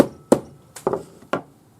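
Hammer strikes on a fairly thick metal ring shank, forged for a pearl ring at a jeweler's bench: three or four sharp, close knocks spaced irregularly, each with a short ringing tail, alone and fairly loud.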